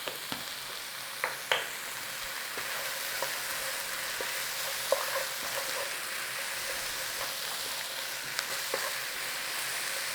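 Onion, carrots and dried thyme sizzle steadily in a pan for a minced beef pie filling, a constant close hiss broken by a few sharp clicks and taps of stirring; no one speaks.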